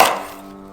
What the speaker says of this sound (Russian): Разрезаем лук пополам